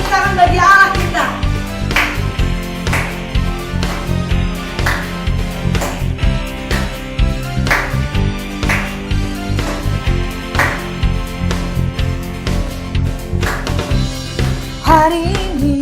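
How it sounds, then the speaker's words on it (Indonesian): A congregation claps in steady rhythm during a church worship service, the beats loud and regular over live music with singing voices throughout. "Tepuk tangan bagi Allah kita."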